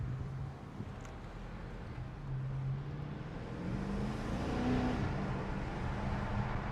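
A Dodge Challenger V8 engine revs gently up to around 3000 rpm from inside the car, a low rumble that swells and falls as the throttle eases on, moderate in level with some wind noise and no talking.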